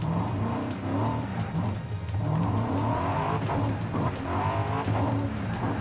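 Cars ramming and skidding in the Forza Horizon 5 open-world racing game; continuous engine roar with tire squeal and scraping, surging and revving in waves, close and loud throughout.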